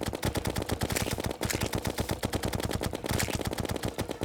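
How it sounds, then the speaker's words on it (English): Rapid continuous gunfire from a Terraria boss fight, shooting bullets in a fast steady stream of sharp cracks that barely pause, moderately loud and with no talking. "Keep shooting at it with bullets."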